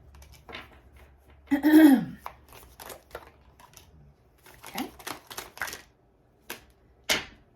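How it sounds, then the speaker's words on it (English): A deck of playing cards riffled and shuffled by hand during a tarot-style reading, with a few cards flying loose; quick papery flutters and snaps come in short bursts separated by pauses. "A couple cards just flew out, so let me just kind of separate these."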